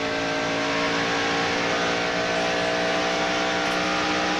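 A stock car engine roaring at speed down the straightaway of a mile-and-a-half racetrack in the 1992 Hooters 500, a loud, steady, close onboard drone with a high sustained pitch and no talking.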